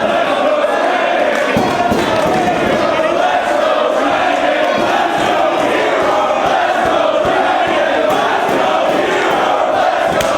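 A wrestling crowd at a CZW show cheering for Chris Hero: a loud, dense, continuous roar of many voices with chants and scattered thumps, lasting throughout.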